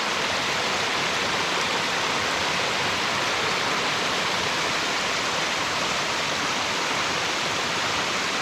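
A small stream flowing beside the Pacific Crest Trail between Bridge of the Gods and Herman Creek, giving a steady, close, broadband rush of water that stays even and unbroken throughout, with no voices.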